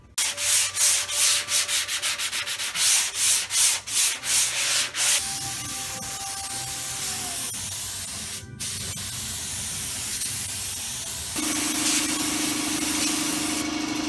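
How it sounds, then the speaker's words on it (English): Auto bodywork on a car quarter panel worked by hand with 180-grit sandpaper on a long stiff block: loud rhythmic rasping strokes at first, then steadier continuous abrasive hiss that shifts in tone partway through, with no talking. "Hit it with 180 to smoothen this bodywork out"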